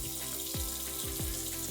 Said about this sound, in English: I'm going to run the water a little bit here